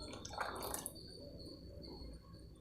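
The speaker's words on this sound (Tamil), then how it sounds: "இப்போ மிக்சியில் நம்ம அலம்பி கொஞ்சம் தண்ணி ஊற்றி அலம்பி ஊற்றிக்கலாங்க." Water poured into a kitchen mixer jar to rinse it, a short splashing rush followed by a quieter trickle and faint drips, close and soft with no talking.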